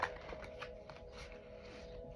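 A brand-new tarot deck with fresh, stiff card stock being shuffled, giving soft papery riffles and rustles that run steadily through the moment, quiet and close, with no voice.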